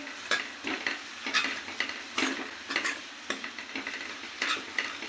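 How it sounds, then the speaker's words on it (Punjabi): Tadka spices with green chillies are stirred and fried in a pan for dal makhani: a steady hiss of sizzling oil under repeated, rhythmic scraping strokes of a spoon, close and fairly loud, with no talking. "ਇਹ ਆਪਣਾ ਜਿਹੜਾ ਤੜਕਾ ਹੈ ਤਿਆਰ ਹੈ ਜੀ ਤੇ ਆਪਾਂ ਹਲਕਾ ਜਿਹਾ ਭੁੰਨ ਕੇ ਇਹਨੂੰ ਮਸਾਲੇ ਨੂੰ"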